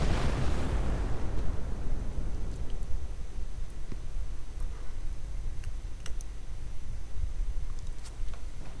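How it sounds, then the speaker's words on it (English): Hummel artillery shells explode in a video game battle, with one loud blast at the start that decays into a steady rumbling din scattered with faint clicks and distant pops. "the 17 pounder is gone under a fire of Hummel shells"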